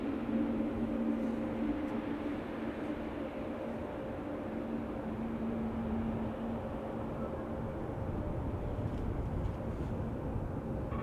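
A Boeing 747 arrives at Amsterdam Schiphol Airport, a broad steady jet roar with a low sustained hum, heard from a distance and holding fairly even in loudness for the whole stretch.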